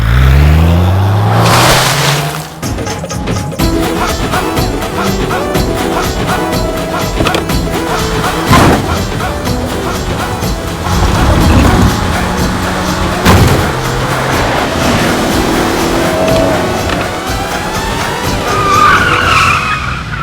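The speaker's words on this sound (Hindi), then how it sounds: "हिंदू जी आप गाड़ी बड़ी अच्छी चलाती है।" A car driven fast in an action movie chase, with tires skidding and squealing in long loud screeches and sharp impacts breaking in over the engine noise.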